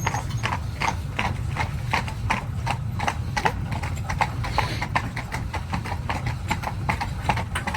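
Horse hooves clip-clop steadily and close at a walking pace while pulling a carriage on a ride through the Ballyfin Demesne estate grounds, with faint mechanical creaks and rattles from the carriage underneath.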